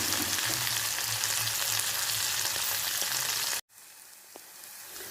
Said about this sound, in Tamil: இதோட நல்லா ஃப்ரெஷ் கருவேப்பிலையே போட்டுருவோம்